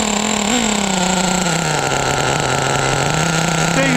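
A Traxxas T-Maxx RC truck with an OS 21 nitro engine runs loud and close, holding a steady high-pitched buzzing drone with a slight pitch dip early and a brief rise near the end.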